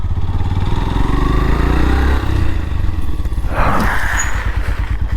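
A motorcycle engine runs loud and close as the bike pulls up outside a restaurant near the Billa Surgam Caves, a steady rumbling idle with some clattering revs near the end.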